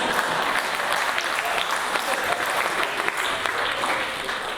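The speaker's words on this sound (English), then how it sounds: "I always received these claps." Audience at the K. Sarvabhauman Memorial Lecture breaks into sustained, dense clapping that holds steady and loud, then begins to thin and fade near the end.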